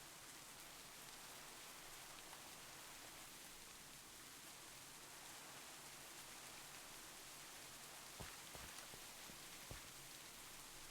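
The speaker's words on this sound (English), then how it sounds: "let's get out of this rain." Rain in the Minecraft video game: a steady, even hiss of falling rain throughout, quiet and continuous, with a couple of faint ticks near the end and no voices.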